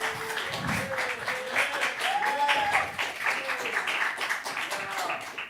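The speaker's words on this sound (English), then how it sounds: "Please clap for Seungho." A small audience claps for master student Seungho Jang, moderately loud and sustained, with a few voices and cheers rising over the clapping.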